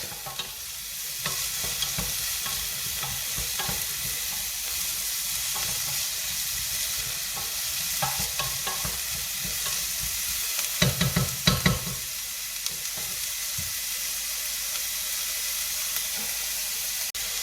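Ingredients for Moroccan-style lentils sautéing in a pan, a continuous close hiss and sizzle with regular stirring scrapes and a few louder knocks of the spoon near the middle.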